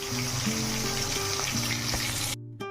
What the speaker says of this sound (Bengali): হিং আর 5 ফোড়নটা ভাজা হয়ে গেছে, গন্ধ বেরোচ্ছে ফোড়নেতে